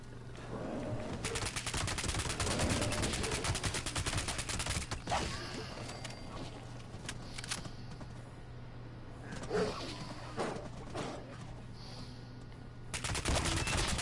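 Rapid automatic gunfire from Fallout 76 weapons rattles loud and close in long bursts, broken by short pauses and scattered single shots, with a steady low hum underneath.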